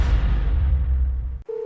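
A telephone call rings out unanswered: a muffled low rumble gives way after a brief gap to a steady, clear electronic ringback tone that holds alone to the end.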